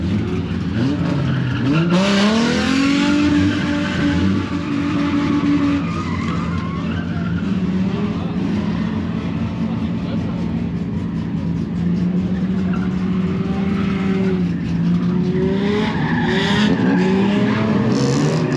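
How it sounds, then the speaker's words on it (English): A black Chevrolet Corvette engine roars loudly and continuously at a car show, its pitch rising and falling with revs, with tire squeal and skidding noise mixed in throughout. "This black Vet right here sounds amazing,"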